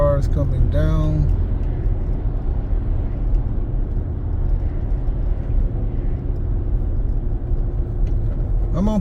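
Cars drive past on Pacific Coast Highway near Malibu, a steady broadband traffic rumble that never lets up, with brief voice-like tones near the start and end.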